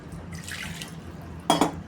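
Water pours and splashes briefly into a mixer jar, a short trickling run followed by a louder splash near the end.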